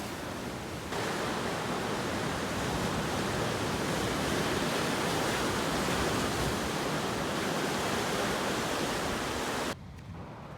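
Ocean waves and rising tide wash over worn rock pools at Queen's Baths on Eleuthera, a dense continuous roar of surf that runs steadily before cutting off abruptly near the end.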